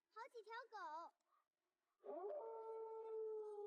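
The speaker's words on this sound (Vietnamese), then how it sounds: "Anh, nhìn kia, mấy con chó kìa." Stray dogs in a rural setting howl and yip in a quick wavering burst, then after a pause one long, sustained, rising howl carries on alone, close and clear.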